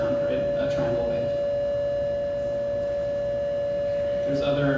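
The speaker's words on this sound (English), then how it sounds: "And a new sound, right? A triangle wave." A steady synthesized tone holds at one pitch throughout, bright with soft overtones, sounding alone with only faint background noise.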